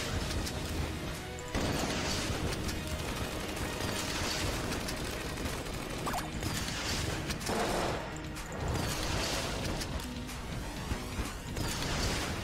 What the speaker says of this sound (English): the primary shot is not piercing, which is lovely, because it's exploding on impact, as it should, because it's a rocket launcher